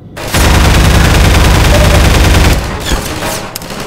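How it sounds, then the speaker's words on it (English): Enemy gunfire in Half-Life 2: loud, close, rapid automatic bursts hammering continuously for a couple of seconds, then easing into scattered, slightly more distant shots. "Stop shooting at me, bros."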